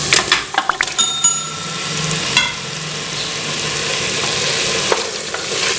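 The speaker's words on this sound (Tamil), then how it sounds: "இப்போ நம்ம கழுவி க்ளீன் பண்ணி வச்சுருக்கிற சிக்கனை உள்ள சேர்த்துக்கலாம்." Raw cleaned chicken is dropped into an onion-tomato masala paste bubbling in separated oil, setting off a steady close sizzle and frying crackle, with a few sharp clinks and scrapes of stirring near the start and no talking.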